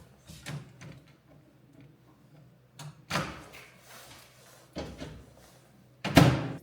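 A microwave oven door is opened and shut to put in lasagna, in a quiet room of a thirteenth-century church, giving several separate knocks, clicks and a sharp latch snap near the end.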